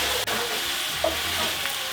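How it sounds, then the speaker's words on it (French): Garlic and ginger frying in a caramel sauce for poulet au caramel, a steady close sizzle with a brief dip and a light clink of a spoon or spatula partway through. "L'ail et le gingembre confit, feu baisse."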